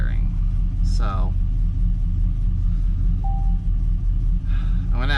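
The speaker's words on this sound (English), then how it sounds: "cylinder 4 is pretty consistently, pretty steadily misfiring" A car engine idles with cylinder 4 steadily misfiring, giving a deep, uneven rumble that runs throughout, with a person talking over it at times.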